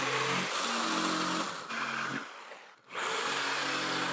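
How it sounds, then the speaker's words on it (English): A loud, buzzing jigsaw cuts wood, running steadily, dipping briefly and pausing, then starting up again at full volume. "I'm going to use a jigsaw to cut this out."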